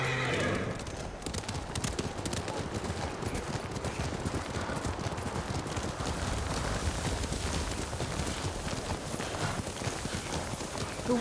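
A horse gallops in rapid clip-clop rhythm through snowy weather in the Ghost of Tsushima video game, hoofbeats loud and continuous from start to finish.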